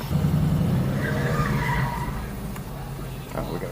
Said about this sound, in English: that dude spun out